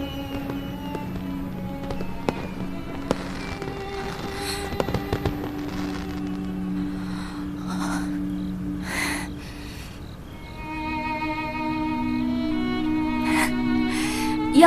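Fireworks in a palace courtyard pop and crackle in scattered bursts, some nearer and sharper, mixed with sustained musical tones and a soft rushing background.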